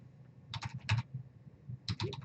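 Short bursts of keystrokes on a computer keyboard while router commands are entered, two quick clusters of clicks close to the mic against a quiet room.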